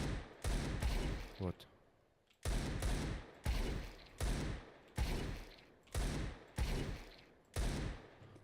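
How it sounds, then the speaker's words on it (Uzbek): Pistol shots ring out in Counter-Strike 2 as seven loud, close reports, each with a short reverberant tail. The first two come close together, then the rest follow at a steady pace of roughly one per second. "biz shunday pistoletni olib, boshga muchallab, shunisiga otib qo'yamiz"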